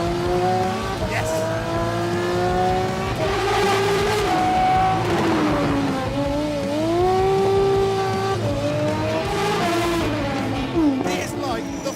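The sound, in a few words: Aston Martin Vulcan racing car driving past at speed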